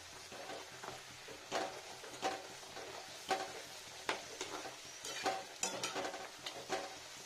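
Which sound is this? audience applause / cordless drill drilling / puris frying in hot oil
puris frying in hot oil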